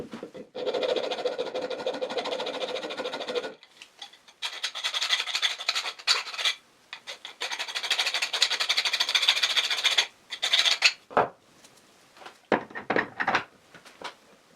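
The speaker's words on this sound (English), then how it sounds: "It has a small casting edge that I need to file." A metal file rasps back and forth in long, steady strokes along a small casting edge on a drill press mortising attachment, pausing briefly between bursts, then a few short scraping passes and light knocks.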